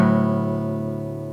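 A single acoustic guitar chord rings out and sustains, its steady strummed tones slowly fading, played as part of a song.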